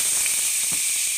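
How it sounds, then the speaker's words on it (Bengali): Dried chilli and crushed ginger sizzle in hot mustard oil, a brief, steady frying hiss heard close up with no voices over it. "এবার তেলটা গরম হয়ে গেছে, আমি একটা শুকনো লঙ্কা এমনি ফ্লেভারের জন্য দিচ্ছি জাস্ট, আর থেতো করা আদা আমি অল্প দিয়ে দিচ্ছি।"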